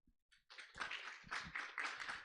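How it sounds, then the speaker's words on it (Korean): Clapping hands greeting the chairman of the Korea Corporate Governance Forum as he comes up to give opening remarks at a seminar, a few scattered claps at first that quickly build into steady applause. "큰 박수로 환영해 주시길 바랍니다."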